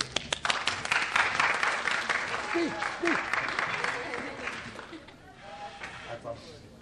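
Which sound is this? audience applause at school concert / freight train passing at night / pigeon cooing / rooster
audience applause at school concert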